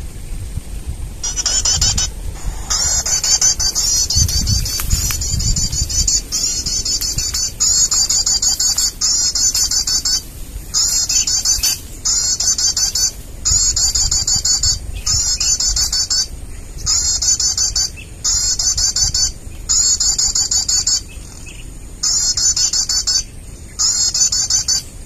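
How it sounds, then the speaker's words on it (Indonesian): A recorded call of a starter tenggak bird plays from an MP3 player outdoors beside flowing water, as repeated shrill bursts in a steady on-off rhythm, loud and near, with faint background noise. "untuk MP3 akan gunakan suara burung starter tenggak"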